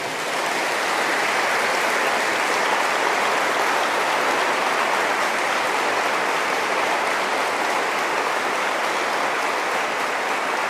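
Sustained, dense applause from a large crowd, even and loud throughout with no pauses.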